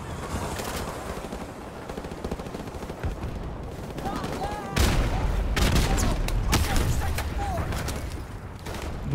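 Gunfire from Modern Warfare Remastered video game: repeated sharp shots and bursts through a dense battle din, loud and close, with some talking mixed in.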